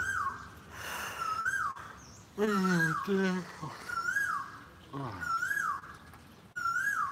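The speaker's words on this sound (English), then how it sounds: "If there's a sound that reminds me of Thailand, it's that bird that you've just heard there." A bird calls repeatedly by a pool in Thailand, its clear whistled notes recurring every second or so at moderate distance while people talk and exclaim over it.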